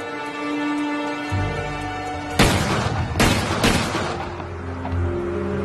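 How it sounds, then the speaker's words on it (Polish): Three loud gunshots in a dramatized Rasputin murder scene at the Yusupov Palace, fired in quick succession with the last two closer together, each a sharp booming crack over a low tonal background. "Trzy strzały śmiertelnie ugodziły mężczyznę"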